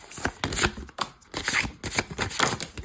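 Tarot cards are shuffled by hand in quick, rhythmic riffling bursts, crisp and fairly close but quiet, with short pauses between the passes.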